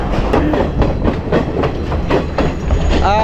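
A passenger train runs along tracks in Sri Lanka, loud and close, with a regular clickety-clack of wheels over rail joints and a faint squeal near the end.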